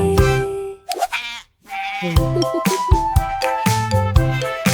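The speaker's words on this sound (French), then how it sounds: "les moutons marchent avec fierté" Sheep bleat repeatedly, loud and close, with wavering cries overlapping one another and a short silent pause near the start.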